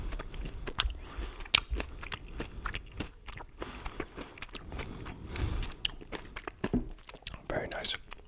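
Crunchy chewing and biting of Nerds gummy clusters, sugary crunchy candy balls, in close, irregular bursts of crackling crunches with soft mouth sounds and occasional low whispering.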